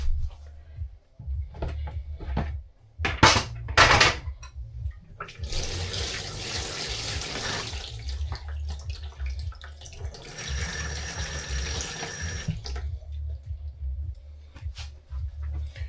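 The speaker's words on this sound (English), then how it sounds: "Now let me wash my hand." A kitchen tap runs while hands are washed after marinating fish. A steady, moderate stream of water flows for several seconds, preceded by a few brief clatters and followed by quieter handling.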